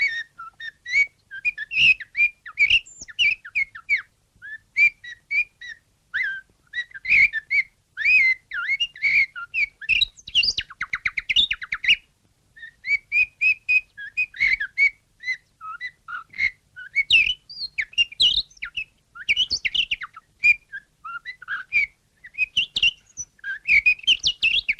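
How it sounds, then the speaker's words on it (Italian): A male common blackbird sings in dense woodland, delivering bursts of fluting, warbling phrases separated by short pauses, clear and fairly close against a quiet background. "Il canto del merlo maschio nel folto del bosco, il suo richiamo d'amore."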